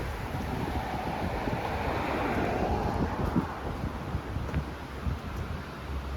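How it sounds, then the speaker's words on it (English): A river runs right beside a house by a bridge on Safford Street in Bennington, Vermont, giving a steady, broad rushing wash of water heard outdoors, continuous and fairly loud with some wind buffeting, no talk. "which is the river."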